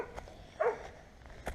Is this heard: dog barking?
yes